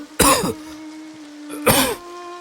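A man coughs after drawing several times on a hookah, two short harsh throaty coughs about a second and a half apart, close and clear.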